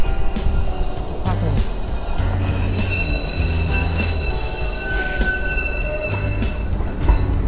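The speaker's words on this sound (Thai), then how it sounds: "มีรถไฟเยอะมากเลย" A train rumbles past close by in central Ghent, with rolling wheel noise and high metallic squeals ringing out repeatedly over the steady roar.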